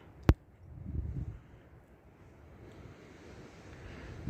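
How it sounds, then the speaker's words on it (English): Wind rumbles and buffets against the microphone on the Pacific Crest Trail near Mojave, a low roaring gust after a sharp click, easing to a steady blow. "So windy."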